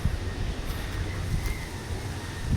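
Lingering wind after Typhoon Uwan, a low steady rushing and buffeting against the microphone, continuous with no voices.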